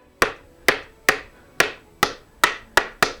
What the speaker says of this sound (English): there I have to go back with my hammer